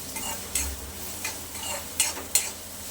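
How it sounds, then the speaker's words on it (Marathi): Onion being sautéed in a pan for chicken gravy masala, soft steady frying hiss broken by several distinct scraping clicks of a spoon against the pan, close and fairly quiet, no talking. "कांदा छान गुलाबी रंगावर आपल्याला परतून घ्यायचा"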